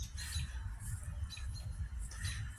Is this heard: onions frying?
no